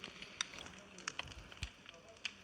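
Fire crackles in Minecraft with irregular sharp pops and snaps over a faint low roar, quiet and close, while a person talks.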